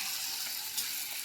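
Ingredients for a Telangana-style tomato pachadi fry in hot oil, producing a continuous bright sizzle with a brief stronger burst partway through and no voices.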